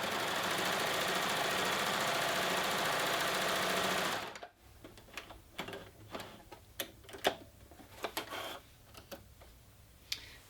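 A Babylock coverstitch machine running fast as it sews a wide cover stitch, a steady close mechanical whir that stops after about four seconds, followed by quieter clicks and handling taps.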